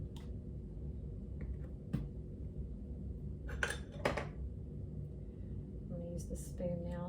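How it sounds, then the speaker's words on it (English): A spoon clinks and scrapes against a dish while deviled egg filling with mayonnaise is mixed, giving a few sharp taps and clatters over a steady low background hum. "I'm going to use the spoon now since I didn't know if I was going to have to go back into the mayonnaise jar"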